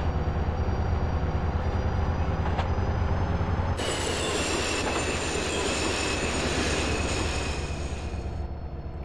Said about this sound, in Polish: A tutaj już mi pociąg automatycznie zwalnia.